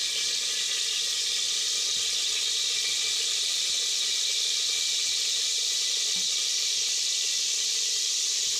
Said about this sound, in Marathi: आता ह्याच्यात फोडणी